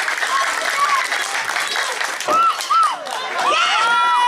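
An audience claps and cheers at a lively local gathering in Gianyar, a dense wash of applause with voices calling and talking over it throughout.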